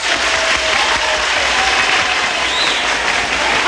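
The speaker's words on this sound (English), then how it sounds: "Come on, break it down, because you've got a lot to clap this afternoon." Live studio audience applause on a 1957 Australian radio variety show, a steady, dense wash of clapping from a large crowd lasting several seconds without talk.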